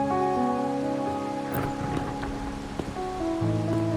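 Steady rain falls on a rainy night in the video game Wuthering Waves, a continuous hiss with soft patters over a low ambient music drone, with no talking.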